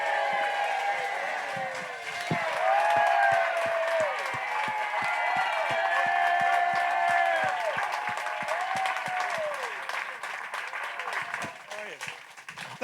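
An audience applauds and cheers for Chubby Checker, with steady, loud clapping from a crowd that swells and then fades out over several seconds; some voices can be heard within it.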